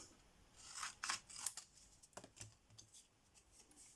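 Scissors cutting through a paper card for a watercolour and brusho greeting card, a run of quiet close snips and crisp cuts in uneven bursts, alone without talk.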